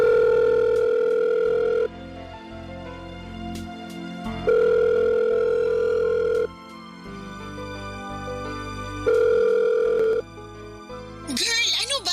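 Cellphone playing a steady dial tone in repeated long bursts separated by short pauses, loud and near, with a burst of rising ringing tones at the end.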